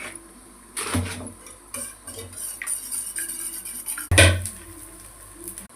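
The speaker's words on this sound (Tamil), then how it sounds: "முட்டை கொஞ்சம் உப்பு போட்டு அப்புறம் கொஞ்சம் பெப்பர் கொஞ்சம் போட்டு கலக்கலாம்." Eggs being whisked with salt and pepper in a bowl for a bread omelette, giving light clinks and scraping taps of utensil against dish, with a louder clatter near the start and another near the end, no talking.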